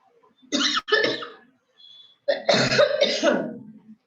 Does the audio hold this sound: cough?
yes